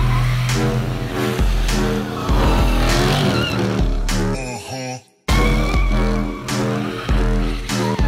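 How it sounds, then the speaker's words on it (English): Ford Mustang spinning a donut, its engine roaring and tires squealing loudly in long sustained skids, with a brief drop in revs before the howl resumes. "Can you make a donut?"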